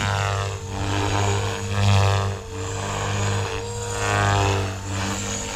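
Blade Fusion 360 RC helicopter at 3250 RPM with default settings and raised roll rate, a loud steady high-pitched rotor and motor whine with layered tones, swelling and easing slightly as it flies close by, with no voices.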